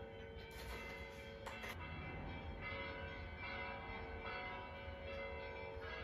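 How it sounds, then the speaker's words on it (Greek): Faint church bells ring steadily in the distance for a wedding, their overlapping tones forming a continuous metallic wash. "Ακούτε τις καμπάνες που χτυπάνε."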